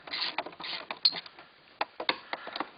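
A ratchet clicks in quick uneven bursts while loosening 10 mm bolts during a short shifter install, close and fairly quiet, with pauses between strokes.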